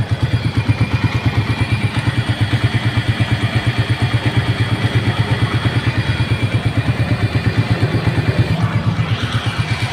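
A motorcycle engine idles with a steady, rapid thumping pulse and a faint high whistle riding over it, loud and close, running continuously without talk.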